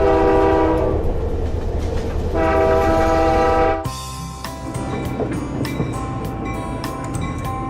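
A passenger train arrives at Pringle, Ontario, a railway divisional point. It opens with a loud, sustained horn blast in two parts, then steel wheels clatter with rhythmic clicks and squeals as it rolls in, close and loud.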